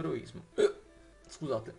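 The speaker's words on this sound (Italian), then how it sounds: "Era un singhiozzo strano." A Harry Potter Game Boy Color game plays a hiccup sound, a short sharp gulp that comes a few times in brief bursts between quiet gaps, alongside speech.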